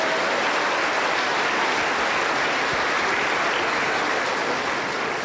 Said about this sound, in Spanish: Vamos a recibirle con fuerte aplauso para el Señor Jesús.